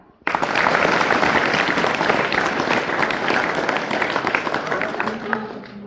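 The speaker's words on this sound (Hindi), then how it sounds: "बजाओ तालियां" School students clap together during an environment talk at a government senior secondary school, a sudden loud burst of applause that starts sharply and continues steadily, easing slightly near the end.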